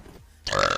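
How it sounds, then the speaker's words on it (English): A woman burps once, briefly and fairly close, right after a quiet lead-in; the sound is short and throaty. "that's a lady burp"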